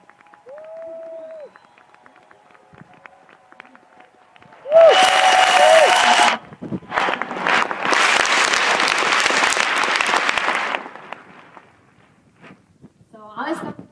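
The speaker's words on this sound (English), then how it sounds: "So big applause for her." Audience applause at a talk: after a quiet passage a loud burst of clapping breaks out, pauses briefly, then returns as a long sustained round before fading to near silence with a few stray claps.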